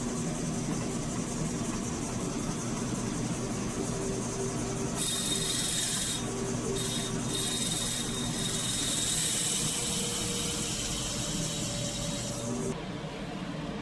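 A machine spins up to 1200 RPM during fabrication of a forge press tool, a steady mechanical hum and whir joined by a harsher broadband hiss that comes in midway and holds for several seconds before easing off.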